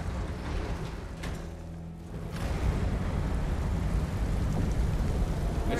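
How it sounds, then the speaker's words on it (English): Steady rain falls in the God of War video game, a dense broadband hiss that swells louder after a brief dip, with a low rumble beneath suggesting thunder. "It's raining."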